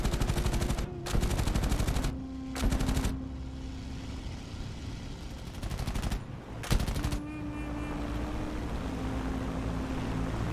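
Several rapid machine gun bursts fired from a fighter plane in air combat, the sharp rattling volleys repeating in short groups over a steady droning aircraft engine.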